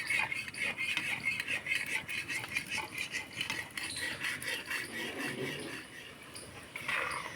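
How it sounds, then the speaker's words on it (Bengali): A spatula gently swirls milk-powder baby sweets frying in hot oil, giving a steady high sizzle with soft, irregular scraping clinks close by. "এই পর্যায়ে এইভাবে করে খুন্তিটা দিয়ে একটু দুলিয়ে দেব।"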